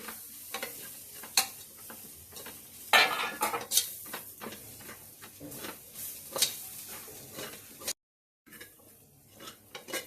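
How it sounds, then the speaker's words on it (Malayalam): Masala for chicken curry being sautéed in a pan, with a soft sizzle and repeated scrapes and clinks of the spoon against the pan, close by, with a brief silent gap near the end. "ഇതൊന്ന് വഴറ്റിയെടുക്കാം നമുക്ക്."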